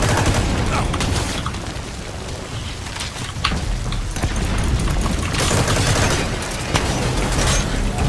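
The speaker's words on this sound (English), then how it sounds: "Machine gun." Machine gun fire in the Metal Gear Online video game, a dense, continuous crackle of rapid shots and booms that rises and falls in intensity, loud and without speech.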